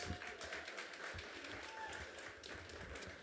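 Applause from a crowd for a jazz quartet at an evening event, fairly faint and distant, with scattered claps and some voices mixed in.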